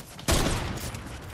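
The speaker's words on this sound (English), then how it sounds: "I'm getting shot while I'm reloading." A sudden loud burst of gunfire in the Roblox Arsenal shooter game, a sharp blast followed by a ringing rattle that tails off over about a second, close and dominant.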